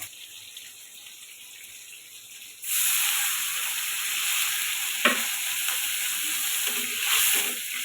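Onions for an eel fish curry with potatoes hit a hot pan and break into a loud, steady sizzle that holds on, with a brief clatter partway through; the earlier seconds are only a quieter background hiss.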